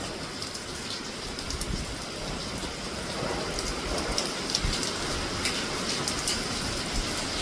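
Heavy storm rain in Jamaica pours in a dense continuous hiss, with occasional louder splashes and gusts, steady throughout with no voices.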